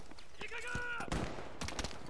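Gunfire in Battlefield V crackles in several sharp bursts of shots amid game effects, with a voice talking over part of it.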